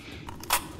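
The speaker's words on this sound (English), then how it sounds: "Reloading!" Short mechanical clicks and a crisp metallic clack from a weapon reload in the tactical shooter Insurgency: Sandstorm, close and quick, ending with one sharp snap.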